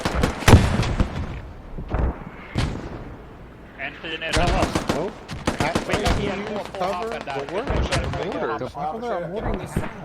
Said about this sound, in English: Full auto M4 suppressing.